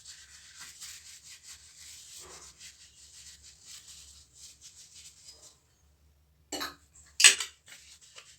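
Tissue paper rubbed over a washed oil lamp, giving soft, steady wiping and scrubbing strokes up close, with a pause and then a few sharper rustles near the end.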